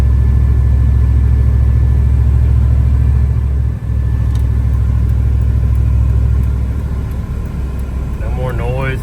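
A Dodge Ram truck engine idles close by with a steady, loud, low rumble that holds through the whole stretch, with a slight dip near the middle.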